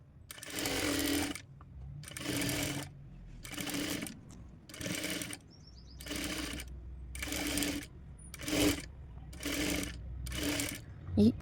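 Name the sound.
sewing machine stitching blouse cloth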